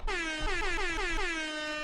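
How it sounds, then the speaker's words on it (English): A loud air horn sound effect blares for nearly two seconds, its bright honk wavering in pitch and pulsing slightly before fading a little toward the end. "We need more air horns out here."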